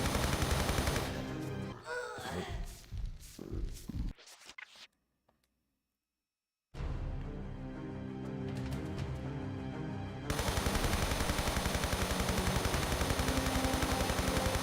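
Gunfire in Tomb Raider III Remastered, a long stretch of rapid, steady shots from the game, broken by a short gap of near silence before the firing resumes and grows louder.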